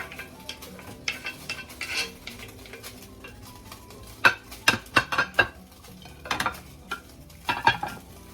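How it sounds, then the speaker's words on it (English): Chopped celery and carrots tipped into hot oil in a soup pot, with bursts of sizzling and clattering scrapes and stirs of a utensil against the pot, spaced irregularly over a quiet background. "I want to add in my celery, my chopped celeries. And I'm going to add in my chopped carrots."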